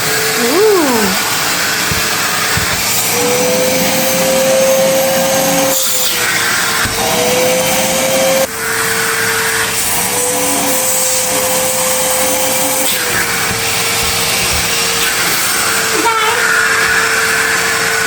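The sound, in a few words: Henry Hoover vacuum cleaner running with suction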